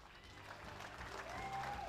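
Audience applause at a STIHL Timbersports U.S. Trophy competition, steady clapping from a crowd that swells slightly toward the end, with a faint tonal whistle or announcer-like tone riding on top.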